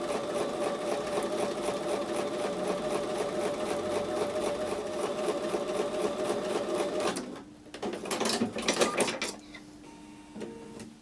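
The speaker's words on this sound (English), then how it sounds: "We're going to sew those together with a 1/4 inch seam." A sewing machine runs a quarter-inch seam through quilt block fabric pieces with a fast, steady needle chatter for about seven seconds, then slows into a few shorter bursts and mechanical clunks before stopping.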